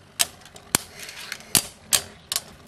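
Beyblade Burst spinning tops clash in a battle: sharp, close clicks and knocks land at irregular intervals over a faint rattling hiss, with no voices.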